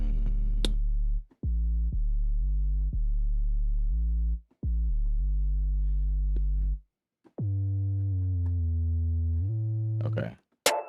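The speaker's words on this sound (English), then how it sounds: "it's like a subby sound bass." A deep sub bass synth programmed in Studio One plays a run of sustained notes that glide between pitches, with short gaps between phrases and a brief higher chirp at the end, loud and smooth with no voices.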